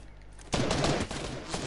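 A sudden burst of rapid gunfire in a Fortnite match erupts about halfway through and keeps rattling at close range, loud and dense, with no talk over it.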